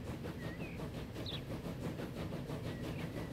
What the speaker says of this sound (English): Let's watch this glorious little train do its thing